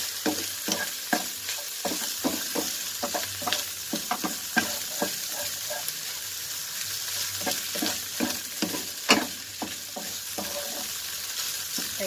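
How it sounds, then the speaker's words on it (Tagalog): Ham sizzling in olive oil in a pan for fried rice, with a steady fry hiss and repeated scraping stirs of a spatula throughout, close and clear, no talking. "Hintayin lang natin, guys, ha, medyo maluto yung ham."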